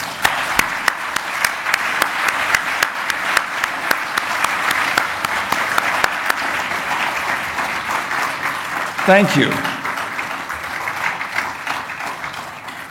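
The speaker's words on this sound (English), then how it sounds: "You hear the applause" Sustained applause from a conference audience fills the room, dense and steady, with a brief spoken thanks partway through before the clapping continues.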